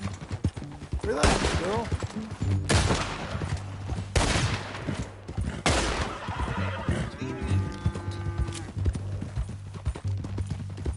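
Horse whinnies and snorts with clip-clopping hooves in Red Dead Redemption 2, several loud neighs over continuous game ambience and gunfire-like cracks, with someone speaking calmly to the animal partway through.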